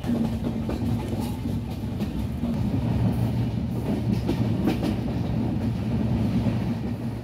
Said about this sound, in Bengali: ঢাকা এয়ারপোর্ট রেল স্টেশন থেকে আমাদের ট্রেনটি ছেড়ে দিয়েছে আমরা ছুটে চলছি আমের রাজধানী রাজশাহীর দিকে